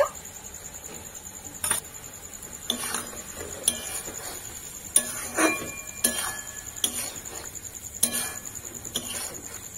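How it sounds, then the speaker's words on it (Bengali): Fried pointed gourd pieces go into cooked lentils in a metal pot, heard as faint, scattered clinks and taps of a utensil against the pot at irregular intervals, with no talk. "এবার দেখুন আমি ডালের মধ্যে ভেজে রাখা পটলগুলি দিয়ে দেব"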